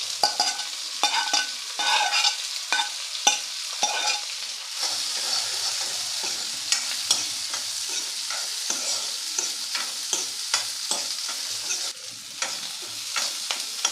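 Finely chopped orange peel with a pinch of asafoetida sautés in a pan, a constant close sizzle broken by frequent, busy spatula scrapes and taps throughout.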